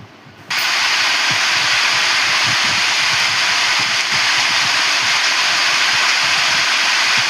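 A sewing machine runs steadily while stitching a baby cap around its curved edge, a continuous whirring hum that starts abruptly after a brief quiet moment and carries on evenly without talk.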